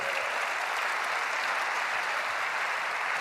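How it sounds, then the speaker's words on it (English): Audience applause at an Apple keynote, a dense, steady roar of many hands clapping that fills the whole stretch at an even level, with no voices rising above it. "So right there, when the clapping kicked in, he said thank you"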